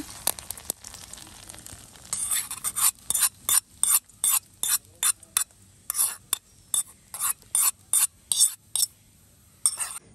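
Poha is stirred and mixed in a pan with a spoon. Quick, regular scraping strokes start after a short quiet stretch and repeat closely and rhythmically for the rest of the clip.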